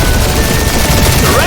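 Heavy gunfire during a dogfight with turrets in the Guardians of the Galaxy video game: a very loud, continuous barrage of dense shots and blasts that fills the whole moment, with voices faintly mixed in.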